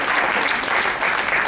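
Applause at a children's poetry gathering: a short, dense burst of many hands clapping together, steady and fairly loud throughout.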